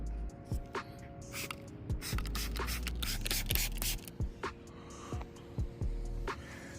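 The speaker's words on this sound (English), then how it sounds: "I'm gonna be using Sublab's ceramic spray sealants." Ceramic spray sealant being applied to a 2024 Mustang GT, heard as a series of short, close spritzes from a spray bottle in an irregular rhythm, with soft wiping noises between them.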